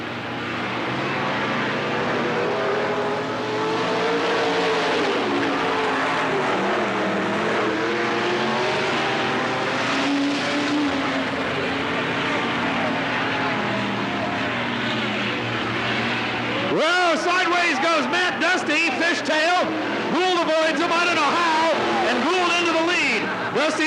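Modified race cars roaring around the oval at Cottage Grove Speedway during a 1991 main event, a continuous loud engine drone with a sharper, nearer car surging past late on, under steady announcer commentary.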